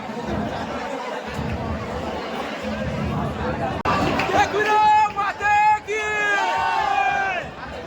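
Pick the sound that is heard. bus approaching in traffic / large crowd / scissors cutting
large crowd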